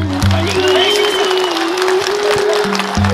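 A crowd applauds at the inauguration of a Ghale Lhosar celebration in Barpak, Gorkha, a steady wash of clapping heard through loud, sustained musical tones, reasonably close and continuous.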